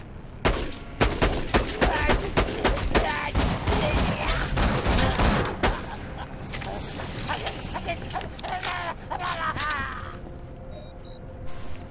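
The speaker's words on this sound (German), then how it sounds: "Muss schauen, ob ich irgendeine Waffe schon aufgesammelt habe, damit ich besser schießen kann" Gunfire in the Borderlands 2 video game: rapid, loud bursts of shots cluster in the first half, then give way to quieter mechanical clatter and scattered game effects, with a voice speaking at times.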